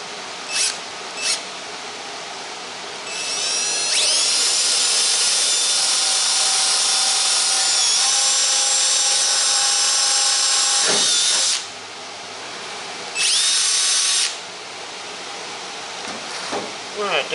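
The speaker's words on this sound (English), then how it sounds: "We'll get this little hole drilled." A power drill whines at high speed for several seconds, pitch shifting as it bites, then stops; a second short burst follows after a pause.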